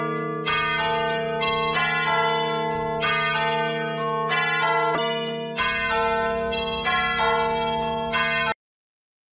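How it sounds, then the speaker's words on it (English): Church bells generated by Riffusion AI ring in dense, clanging peals with rich overtones, repeating in a steady rhythm for about eight seconds before cutting off abruptly. "this one right here is just going to be church bells"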